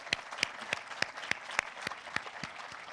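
An audience at a ceremony honoring schoolchildren and their parents claps in a steady, rhythmic pattern of distinct beats, faint and somewhat distant.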